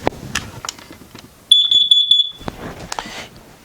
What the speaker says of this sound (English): if you do hear your propane detector do more than just an intermittent beep